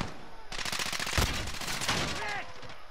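Fully automatic pistols fire in rapid, dense bursts in a video game, sounding loud and close as the rattling shots run almost continuously for about two and a half seconds.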